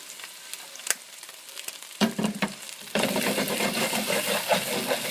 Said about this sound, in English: Go ahead and saute these up a little bit.